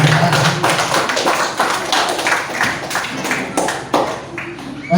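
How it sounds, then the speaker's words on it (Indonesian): Students applaud together in a classroom, a dense burst of many hands clapping at close range that runs steadily for several seconds and stays fairly loud throughout. "Berikan tepuk tangan."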